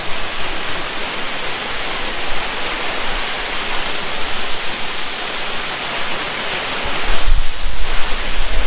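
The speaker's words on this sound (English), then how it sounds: "আমি এখন একটা ওয়াটারফলসের সামনে আছি" A waterfall near Chilling in Ladakh sends up a constant, close, broad rushing roar with some wind buffeting, and a louder gust-like surge near the end.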